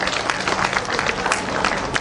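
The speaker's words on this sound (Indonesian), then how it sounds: "Tepuk tangan pada Pak Jokowi." An indoor audience at an official event applauds, steady crowd clapping with scattered sharper claps running throughout.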